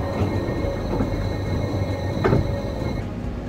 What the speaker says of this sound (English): we'll take the train back up to Eigergletscher